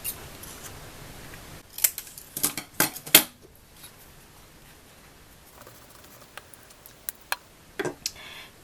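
Scissors snip paper in a notebook with a quick cluster of sharp, close cuts, followed by a few scattered clicks and light snips in an otherwise quiet room.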